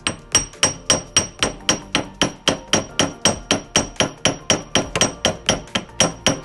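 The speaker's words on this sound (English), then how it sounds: "I hammer it to make it flat." Steady, even hammer blows flattening jewellery solder on a steel block, about three per second, close and ringing, continuing without pause.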